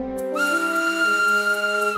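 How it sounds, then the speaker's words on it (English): A steam locomotive whistle sounds once, a sustained bright tone held for about two seconds, loud and close. "Lily blew her whistle."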